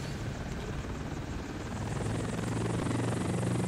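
An unarmed helicopter in Battlefield 1942 Desert Combat, Tobruk map: rotor thumps steadily with a dense engine roar, loud and close, continuous throughout with no talking.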